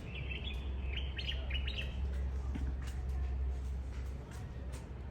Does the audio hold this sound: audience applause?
no